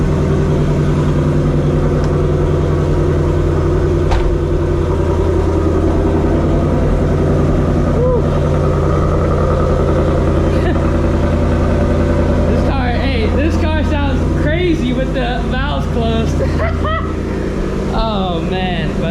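A manual Ford Mustang GT with an H-pipe, otherwise nearly stock, idles in quiet mode, a steady low engine rumble running throughout while people talk over it in the second half.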